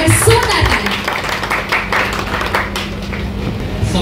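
A crowd at the launch ceremony for the Chhattisgarhi film Raja Hindustani claps loudly and continuously in a close, dense burst. Speech runs alongside the applause.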